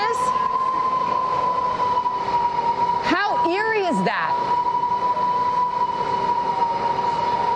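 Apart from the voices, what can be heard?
Category 4 hurricane eyewall winds heard inside a building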